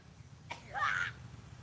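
A single sneeze from a person outdoors during city fishing, fairly faint and brief with a sharp onset and a breathy tail, over quiet background.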